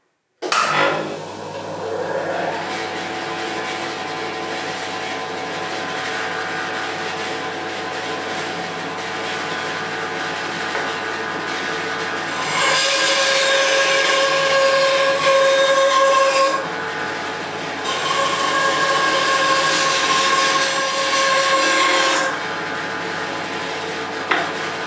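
A new bandsaw running and cutting wood: a loud, continuous motor hum throughout, with two stretches where the pitch and intensity rise as blade meets the stock, then settle back.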